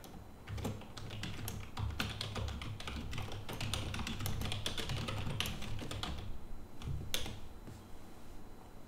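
Rapid, uneven clicking of keys on a keyboard, close up, with short pauses and a few harder key strikes.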